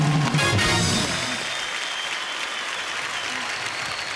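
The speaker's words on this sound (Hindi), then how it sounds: "एक बार तालियां बजती रहें।" A studio audience claps loudly at a Hindi comedy talk show, steady dense applause with some crowd noise at the start, continuing throughout.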